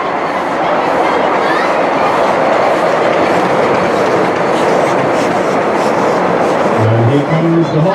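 A Hymek diesel-hydraulic locomotive, D7054, rumbles past close by on a light railway, a steady loud roar with rhythmic wheel clatter and a rising engine tone near the end.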